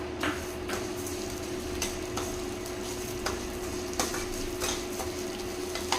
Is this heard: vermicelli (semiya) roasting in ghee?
yes